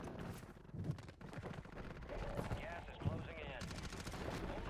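Rapid automatic gunfire from the Call of Duty video game, repeated bursts and single shots crackling through a busy mix, with a voice talking over parts of it.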